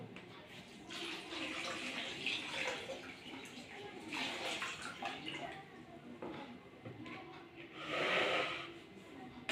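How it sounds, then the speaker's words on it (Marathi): Cold water poured steadily into a container to soak Dashrath grass, a goat fodder crop, making a continuous rushing splash that surges louder near the end. "इथे थंड पाणी आपण घेतलेली आणि आता हे पाणी आपण याच्यात टाकत आहोत"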